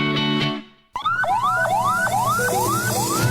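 Ambulance emergency siren used as a sound effect in a radio announcement, a loud rising wail repeating in quick sweeping cycles after a brief musical tone fades out.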